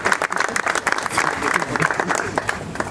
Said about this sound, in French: On peut l'applaudir aussi, on les a tous applaudis.